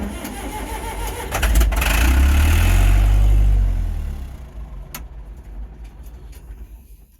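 An IH 5000 windrower engine cranks and catches, swelling into a loud low rumble for a couple of seconds before sagging and dying away, leaving a faint sputter and clunks.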